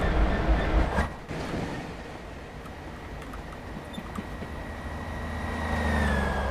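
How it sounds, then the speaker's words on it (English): A train passing in a train simulator video game, a steady rolling rumble with faint rail clatter and a thin high whine rising toward the end, heard alone without talk. "Oh, train."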